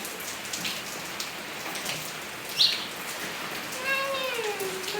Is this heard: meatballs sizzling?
no